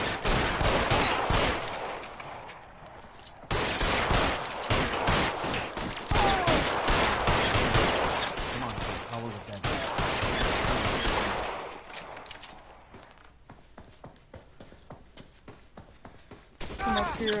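In L.A. Noire, a Tommy gun rips out loud sustained bursts of automatic fire mixed with other shots. Later the fire thins into scattered single cracks, and voices talk between the volleys.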